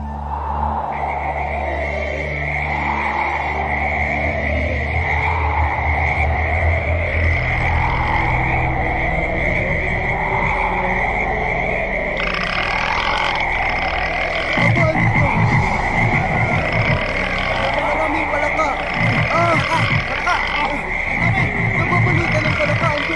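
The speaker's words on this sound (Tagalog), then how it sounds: "aahon ang maraming palaka sa bayan niya" Many frogs croak in a dense, continuous chorus of repeated rising calls, loud and close, under dramatic music with a steady high tone, in a Filipino children's retelling of the plague of frogs in Egypt.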